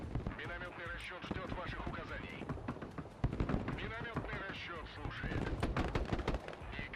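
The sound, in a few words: mortar and gunfire in video game Broken Arrow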